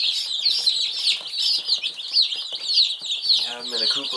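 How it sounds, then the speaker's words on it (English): Baby chicks cheep continuously in a farm coop during spring, a dense chorus of high, rapid peeps from many birds close by, with no talk over them. "You gotta watch with these baby chicks when you're moving around in these."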